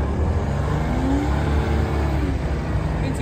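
Manitou MLT 635 telehandler with a Deutz engine, tuned to 130 hp, revving steadily and loud up close, a continuous low engine roar with a rising whine, no talk.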